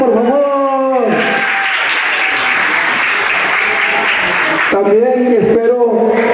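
Crowd applause bursts out at a Chicago bull festival party, a dense wash of clapping lasting several seconds, framed by amplified announcer talk before and after.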